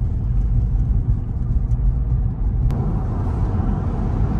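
A Tesla rolling along Interstate 74 on Autopilot with cruise control at the speed limit, heard as a steady, loud low road rumble and engine-like drone inside the car with no break.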